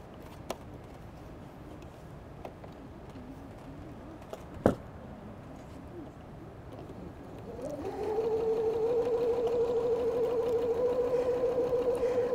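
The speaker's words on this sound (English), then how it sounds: "I'm taking this over to the sewing machine now, and I'm going to sew 1/4 inch away from both drawn lines" A sewing machine starts up partway through and runs at a steady, even hum while stitching quilt half square triangles a quarter inch from drawn lines, following a few faint clicks and quiet handling noises.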